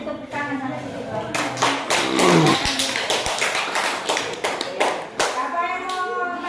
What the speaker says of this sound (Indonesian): Kita beri tepuk tangan sama si Ibu